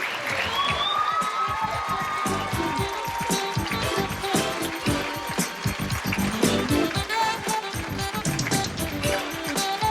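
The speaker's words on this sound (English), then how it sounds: "A big applause." Studio audience at the Montel Williams hypnosis talk show applauding in a continuous, fairly loud wash of clapping, with crowd noise mixed in.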